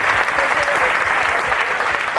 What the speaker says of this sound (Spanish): Vamos a darle un aplauso a Jesús Eucaristía fuerte de entrada